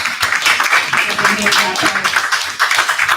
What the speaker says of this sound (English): So I just want a round of applause to everybody.